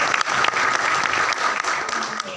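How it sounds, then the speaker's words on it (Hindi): A brief burst of audience clapping at a webinar hall, fairly dense and steady over a couple of seconds with a faint voice mixed in. "तालियां ऑनेस्टी की।"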